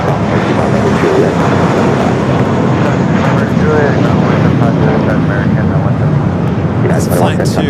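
An airliner in Minnesota Gophers special livery taking off from runway 25 right at LAX, a dense continuous jet roar close by, with voices talking over it.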